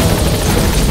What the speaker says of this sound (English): So now to extract him, let's just put him in the helicopter